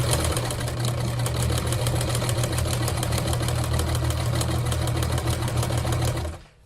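A sewing machine stitches a half-inch bias tape seam for a cosplay garment, running steadily for about six seconds with a rapid, even mechanical chatter before stopping, close and loud with no talking.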